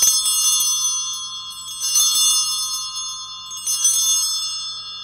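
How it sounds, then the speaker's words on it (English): Altar bells ring out at the consecration during Mass, three bright jangling peals at regular intervals, close and clear, each leaving a sustained shimmering ring between strikes. "The ringing of the bells as an acknowledgement that Christ is here"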